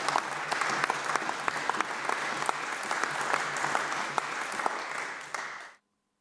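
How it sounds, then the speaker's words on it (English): Members of Parliament applaud the public gallery in a parliamentary chamber, a loud, dense sustained round of clapping that carries on evenly for several seconds before stopping abruptly. "Members of a Parliament applauding the public gallery, and deaf people at that."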